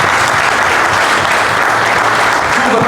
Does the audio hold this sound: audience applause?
yes